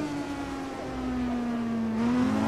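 Formula 2 racing car engine in the F1 2021 video game at the Monaco Grand Prix, a sustained steady drone that slowly dips then climbs again as it accelerates, loud and alone.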